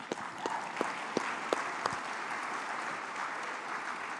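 Scattered applause from a conference audience at a church annual business session, a few sharp claps over a steady broad hiss of crowd noise, fading after the first two seconds.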